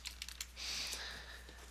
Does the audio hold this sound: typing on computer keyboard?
yes